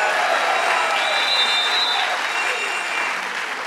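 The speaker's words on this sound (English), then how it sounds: "let's give this great institution a round of applause" Audience applause at a Mount Sinai hospital event in New York, a steady, dense wash of clapping from a crowd that holds near level throughout and eases slightly at the end.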